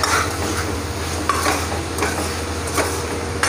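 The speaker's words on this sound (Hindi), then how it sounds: "तो ये हो चुके हैं सारे मसाले मिक्स तो थोड़ी देर इसको ऐसे ही घुमाते रहते हैं ताकि मसाले थोड़ा पक जाए" Turmeric, cumin powder, salt and spices are stirred in a pot with a metal spoon, a continuous scraping and faint sizzle broken by a few sharp clicks of utensil against metal, close and steady.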